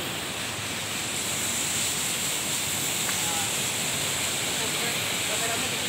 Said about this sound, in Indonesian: Aliran airnya sangat deras sekali.